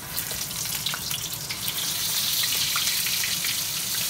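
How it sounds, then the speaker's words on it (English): Floured lobster pieces deep frying in hot oil, a steady dense sizzle and bubbling hiss that holds evenly throughout, close and fairly loud with no voices. "Now I'm gonna deep fry them, like so."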